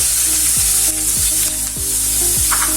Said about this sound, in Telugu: ఇప్పుడు ఆనియన్ బాగా ఫ్రై చేసుకోండి.